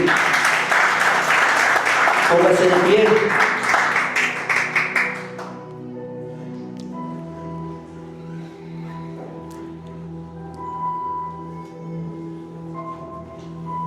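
A congregation claps loudly for several seconds, then the applause fades into soft sustained organ chords. A voice speaks briefly.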